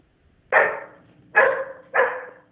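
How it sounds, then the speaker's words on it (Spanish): A neighbour's dog barks three times at a moderate distance, each bark sharp and separated by roughly a second of near silence. "No es mi perro, es el perro del vecino."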